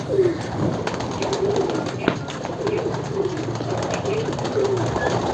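Pigeons at a village rooftop pigeon show coo in repeated soft, throaty phrases at close range over a low ambient background, roughly one call every second.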